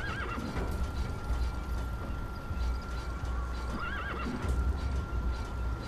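A horse in the video game Metal Gear Solid V: The Phantom Pain whinnies twice with loud, wavering neighs over a steady rhythmic gallop of hooves, heard close and clear.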